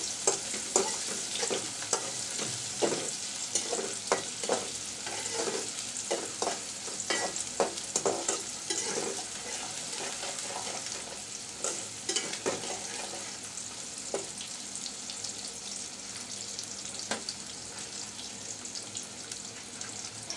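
Onion and garlic fry with dried fish (shutki) in a hot pan, giving a continuous close sizzle punctuated by frequent scraping stirs and light clinks, with no talking.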